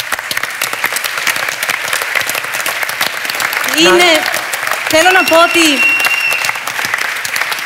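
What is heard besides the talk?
audience applause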